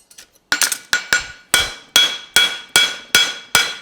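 A forging hammer flattens a Mustad specialty Hunter front horseshoe: a few light taps, then about nine sharp, ringing blows in a steady, close rhythm, each decaying quickly.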